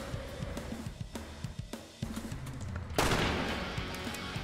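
A shotgun fires in a video game, several sharp blasts in quick succession over a busy backdrop of game sound, with a louder, denser burst of noise near the end.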